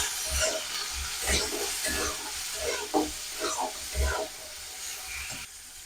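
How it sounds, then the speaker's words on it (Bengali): Bean seeds being stirred with spices, salt and red chilli powder in a frying pan, producing a steady sizzle with repeated scraping stirs at an irregular rhythm, with a voice speaking lightly over the cooking. "দিয়ে একটু নেড়ে দেবো।"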